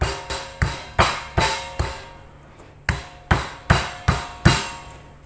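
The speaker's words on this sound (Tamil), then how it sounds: "நல்லெண்ணெய் சேர்த்துட்டு இதை நம்ம மெதுவாக இந்த மாதிரி இடித்து எடுத்துக்கலாம்" Urad dal papad dough mixed with sesame oil is pounded by hand in a steady series of about a dozen sharp, close thuds, with a brief pause partway through.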